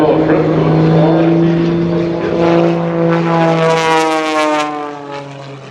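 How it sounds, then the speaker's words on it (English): An MX-2 aerobatic propeller airplane at an air show, its engine drone loud and close with a rising then falling pitch as it sweeps past, fading toward the end. "He's gone through a progression of airplanes, so here he is today in the leading edge of model planes. It's MX-2."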